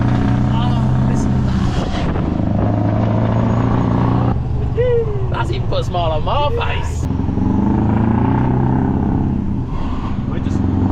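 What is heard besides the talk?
straight-piped Scania V8 truck engine revving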